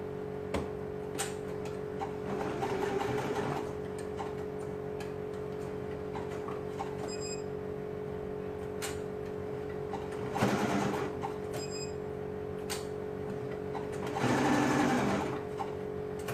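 Sewing machine zigzag stitching knit neck binding for a boys' tank top: a continuous motor hum with three distinct louder bursts of rapid needle clatter, close and clear.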